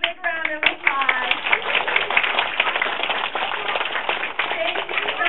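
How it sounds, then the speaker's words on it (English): Audience claps in a dense, lively round of applause at a feeding show, close and steady throughout after a brief quieter start. "let's give Michael a big round of applause"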